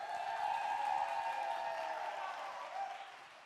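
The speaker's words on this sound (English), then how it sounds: "give yourselves another round of applause" A steady, fairly quiet round of applause from an audience at an opening event, continuous clapping that slowly fades toward the end with no voices over it.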